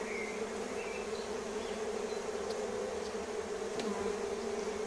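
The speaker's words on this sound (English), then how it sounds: "the position of the smoker there may be stirring up the bees a bit" Bees swarm and buzz around a homemade hive opened for a second-week inspection, with a smoker nearby stirring them up; a dense, steady drone holds close and continuous throughout, with no talk.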